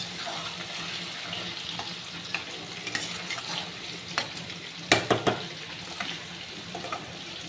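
Bottle gourd curry with fish head simmers and sizzles softly in a pan; a low, continuous bubbling with a few sharp utensil clinks and knocks around the middle.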